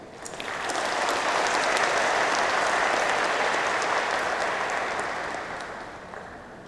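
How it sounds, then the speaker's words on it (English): Large audience applause at a graduation ceremony, a broad, rain-like roar of clapping that swells in, holds steady and slowly fades over several seconds. "let's give the staff a round of applause"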